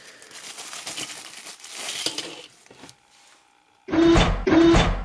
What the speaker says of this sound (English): this one is in a bubble wrap, which is a nice layer of protection and storage